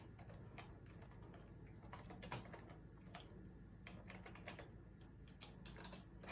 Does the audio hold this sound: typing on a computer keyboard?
yes